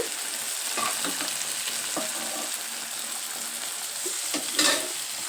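Dal being stirred into fried masala for hotel-style palak dal sizzles softly in the pan, with intermittent scraping and clinking of the spoon throughout.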